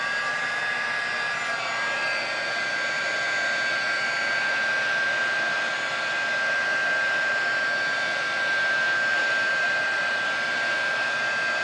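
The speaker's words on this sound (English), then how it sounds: "get my heating tool on" An electric heat tool blows steadily to dry alcohol ink and paint on aluminum for a craft piece, a constant close airy roar with a thin high whine, no talking.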